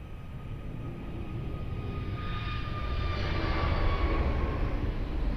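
A fixed-wing airliner takes off at Lisbon Airport, a broad, steady jet roar that swells gradually with thin whining engine tones, heard from a distance with no voices.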